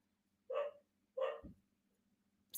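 A dog barks outdoors, two sharp, clear barks spaced apart at moderate distance, with quiet between them.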